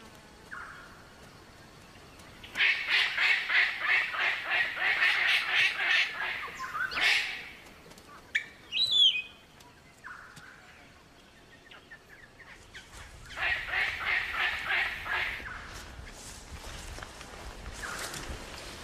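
Black cockatoos call in an Australian tropical forest, giving harsh, rasping squawks in two loud bursts, with a quieter gap and a few faint calls between them.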